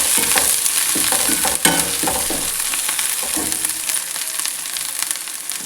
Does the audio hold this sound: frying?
yes